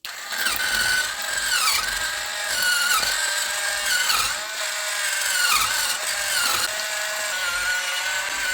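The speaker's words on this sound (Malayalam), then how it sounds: "ഇതിപ്പം റൂം ടെമ്പറേച്ചറിലുള്ള 200 ഗ്രാം അൺസോൾട്ടഡ് ബട്ടറാണ്. ഇനി നമുക്കിതൊന്ന് ബീറ്റ് ചെയ്തെടുക്കാം." Electric hand mixer whirring steadily while beating 200 g of room-temperature unsalted butter for a plum cake, a loud, continuous high-pitched whine with small pitch dips as the beaters move through the butter, no voices.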